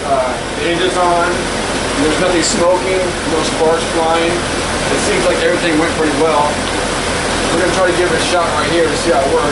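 A Jeep TJ engine runs at a steady idle, a constant low hum and whir beneath someone talking close by throughout.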